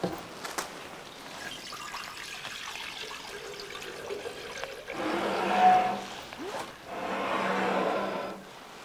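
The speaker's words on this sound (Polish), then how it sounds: "Naleję wody." Water is poured into a glass laboratory beaker, a quiet trickle at first, then two louder bursts of splashing pour, with faint knocks and clinks around them and no talk.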